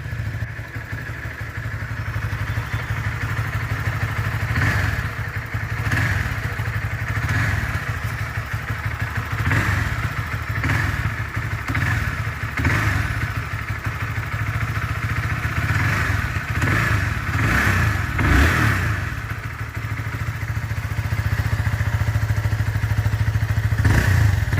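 A motorcycle engine runs steadily for the whole stretch, its low rumble rising and falling through repeated revs, heard close and continuous with no talking.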